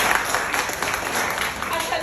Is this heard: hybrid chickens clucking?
no